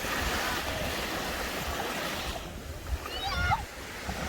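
Sea waves wash onto the beach at Maamoura in a continuous surf rush that fades partway through, while a voice and splashing rise briefly near the end.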